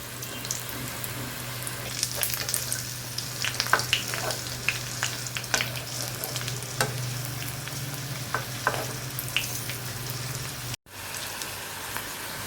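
Onion fritters (peyaji) frying in oil, a steady soft sizzle with scattered crackles and pops, fairly quiet and uninterrupted, with a low hum beneath and no voices.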